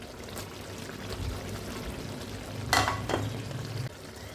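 Chicken biriyani gravy cooking in a single pot as capsicum and carrot pieces are added, a steady low sizzle and simmer with a couple of brief clattering stirs or drops midway, no talking.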